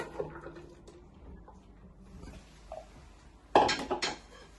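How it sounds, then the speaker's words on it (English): A frying pan set back down on the hob while cooking prawn jambalaya gives a short metallic clatter near the end of an otherwise quiet kitchen moment. "with your pan you just want to roll it round. Then you place it back on the hob."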